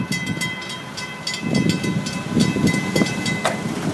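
An FEC freight train passes close by, its cars rumbling with irregular clanks and rattles of wheels over rail joints and a steady high squeal from the wheels, with no voices.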